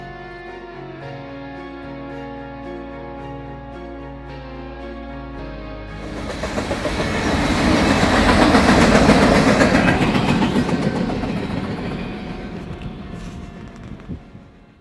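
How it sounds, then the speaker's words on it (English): A train at the Salton Sea approaches and rumbles past, swelling to a loud roar with rattling wheels before slowly fading, after a stretch of steady hum. "I quickly recorded this passing train"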